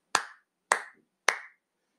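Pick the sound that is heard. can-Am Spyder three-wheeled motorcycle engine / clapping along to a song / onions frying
clapping along to a song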